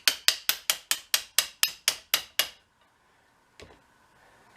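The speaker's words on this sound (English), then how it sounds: "I'm just going to go ahead and tap this in with a bolt, because I don't want to bend a ramrod" A bolt taps a stuck bullet down into a muzzleloader barrel, making ten sharp, evenly spaced metallic knocks close by, then silence and a single faint clunk.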